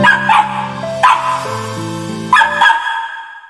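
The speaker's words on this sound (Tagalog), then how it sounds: "Ang ingay ng aso ko, ano ba nangyari dito?" A pet dog lets out a few loud, close barks, about three sharp outbursts spaced a second or so apart, over a noisy background of tonal sounds.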